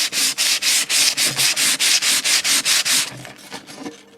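Tinplate three-rail model railway track scrubbed with a pot scourer, a fast rhythmic run of about fifteen harsh back-and-forth rasping strokes, loud and close, slowing and softening toward the end, with no voices.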